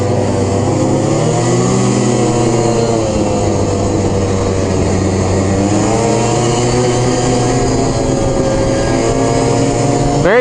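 An Arctic Cat Blast M 4000 snowmobile engine runs steadily on a trail, a loud, continuous single-cylinder drone with gently rising and falling pitch and no voices over it.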